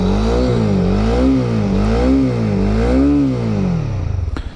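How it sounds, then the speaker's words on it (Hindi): Honda CB300R motorcycle engine idling and being blipped, the pitch swelling up and down in several smooth revs close to the microphone before settling, ending with a brief clattering tail. "इंजन का आप साउंड सुनिए।"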